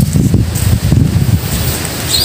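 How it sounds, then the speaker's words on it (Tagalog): Gusty wind buffets outdoors near a vehicle, a rough low rumble with uneven surges that swells and eases across a couple of seconds. "medyo mahangin eh"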